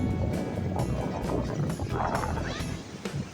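Strong wind at Tondaligan Beach, Pangasinan, roars and buffets a nearby microphone in a continuous loud rush, with faint background sounds beneath.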